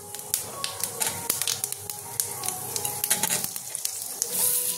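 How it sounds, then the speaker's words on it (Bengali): Bay leaf and whole cumin seeds dropped into hot oil for tempering a Bengali fish dish, crackling with sharp irregular pops and ticks over a steady hiss, close by, with no voices. "এবার একটু ফোড়ন দেবো, তেজপাতাটা আর গোটা জিরেটা ফোড়ন দেবো।"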